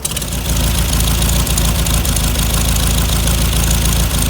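A classic Volkswagen Beetle engine fitted with dual IDF carburetors idles while warming up, a loud, close, steady throbbing run with no talk over it.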